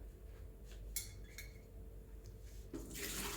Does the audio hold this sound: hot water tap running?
yes